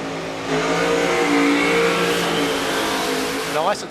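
Funny car launching down the drag strip at Willowbank Raceway, a loud sustained nitro engine roar that holds steady then fades as the car pulls away, with a commentator talking over it.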